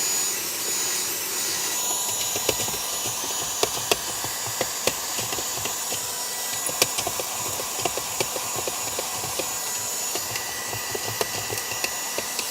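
Brigii MX30 handheld vacuum cleaner running steadily at close range, a loud continuous whooshing roar with faint rattles and clicks over it, no voices.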